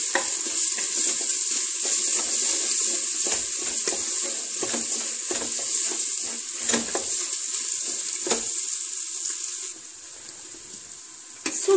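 Ground meat sautéing with chili flakes, salt and tomato paste for a Turkish bean stew, a steady close sizzle with frequent stirring scrapes and clinks, easing slightly near the end.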